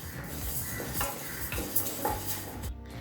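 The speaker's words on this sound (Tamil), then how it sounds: "இப்போ பாசிப்பருப்பை நல்லா வாசனை வர வரைக்கும் வறுத்துக்கலாங்க." Moong dal dry-roasting in a pan, stirred steadily with a utensil that scrapes and clinks against the metal, with light crackling underneath, close and continuous throughout.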